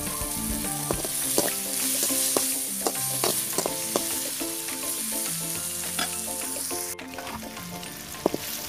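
Tomato and onion sautéing in a pan for a spicy elephant foot yam fry, with a steady frying sizzle and repeated scraping stirs and clinks from a utensil, close and continuous throughout with no talking.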